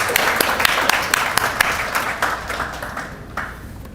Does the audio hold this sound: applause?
yes